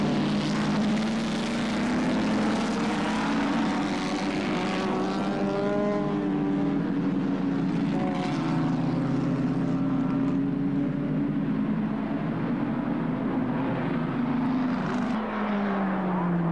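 Post-war racing cars roar past at Silverstone, a loud sustained engine drone rising and falling in pitch as cars sweep by, with no talk.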